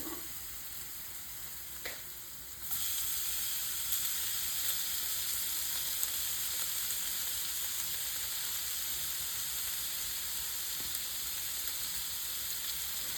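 Steady sizzling and crackling of Nigerian fish rolls frying in hot oil, starting quietly then jumping louder after a soft clunk and continuing as a constant hiss.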